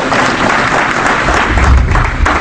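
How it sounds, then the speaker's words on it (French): Dense crowd applause at a community gathering in Hendaye, loud and continuous with steady clapping throughout the short burst. "C'est pour qu'on l'applaudisse également"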